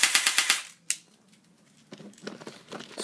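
Mini electric MP5 toy gun firing on full auto with fresh batteries, a quick burst of rapid sharp clicking shots, one extra single shot, then softer mechanical handling noises close by.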